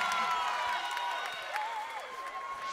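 A concert crowd at the Zénith de Paris applauds and cheers for a singer, a dense, steady roar of clapping and shouting with music-like tones sweeping through it.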